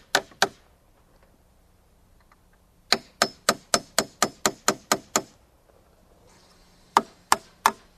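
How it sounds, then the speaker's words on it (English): Galvanized finish nails driven into a wooden deck railing's bottom rail with a hammer: two sharp strikes, then a steady run of about ten evenly spaced blows, then three more, close and loud with quiet between. "The bottom rail is held in the dado with a couple galvanized finish nails."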